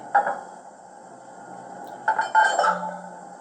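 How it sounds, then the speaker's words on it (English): A sound-fitted O gauge Class 09 model locomotive plays metallic buffer clash and coupling clanks: one sharp clank, a pause, then a quick cluster of clinking hits. "6 we've got buffer clash and coupling."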